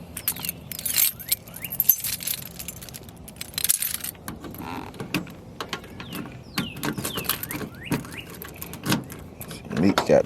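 An original 1985 GM key on a ring for a Chevy box car jangles in bright, irregular metallic bursts over several seconds, close by, with a car door and faint voices around it.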